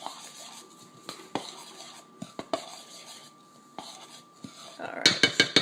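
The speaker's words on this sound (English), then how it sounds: "So let's just mix them all together." Dry cake ingredients stirred together in a bowl, a steady scraping swish with repeated light clinks of utensil against the bowl, growing into a quick run of sharper taps near the end.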